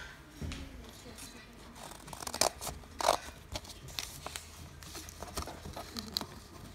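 Scissors cutting paper for a collage, a few soft snips and rustles of the sheet being turned, quiet and close with a person talking over them.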